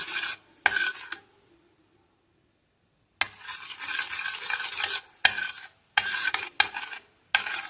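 A utensil scrapes and stirs melting honey in a pot in several separate bursts, with a sizzling rasp and short pauses of silence between strokes.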